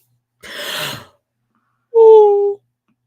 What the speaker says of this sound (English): That yawn came from my toes.